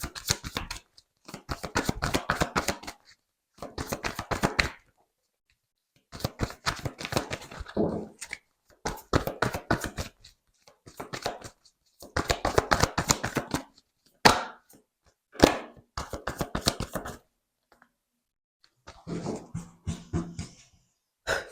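Oracle cards from a sacred-traveler deck are shuffled by hand up close, in repeated bursts of quick papery riffling separated by short pauses, with no talking.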